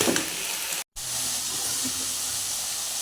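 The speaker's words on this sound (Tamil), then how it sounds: "எண்ணெய் பிரிகிற அளவுக்கு வதங்கணும்" A quarter kilo of brinjal sautéing in oil in a pan, a steady broad sizzle and hiss throughout, briefly cut out for an instant, with faint stirring noises.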